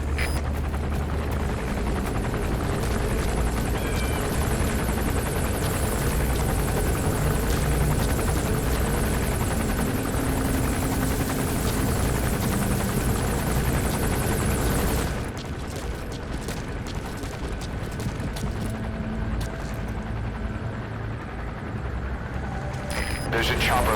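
A helicopter lands in the video game Metal Gear Solid V, its loud, continuous rotor roar filling the scene before easing slightly, with game voices speaking over it.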